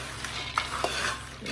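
Peanuts frying in a small amount of oil being stirred, a soft sizzle under a few quick scraping and clinking strokes of a utensil against the pan.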